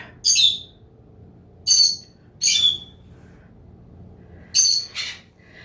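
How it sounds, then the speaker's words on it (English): Pet birds chirp in short, loud bursts, four or five calls spaced irregularly over a quiet room background, with no talking. "Don't mind our birds in the background here."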